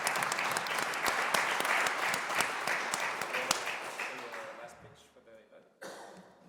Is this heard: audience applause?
yes